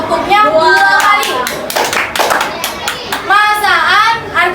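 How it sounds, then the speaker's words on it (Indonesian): Children in a sixth-grade classroom clap on cue amid lively chatter, with a few sharp hand claps cutting through overlapping young voices and a teacher talking. "Sekarang tepuknya 2 kali."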